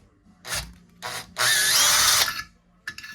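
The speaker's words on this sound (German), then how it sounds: "Das heißt, Schalldämpfer demontieren. Ich habe auch einen Akkuschrauber." A cordless screwdriver backs out the muffler screws on a Stihl MS 261 C-M chainsaw in short, close whirring bursts, the longest lasting under a second, with no talk.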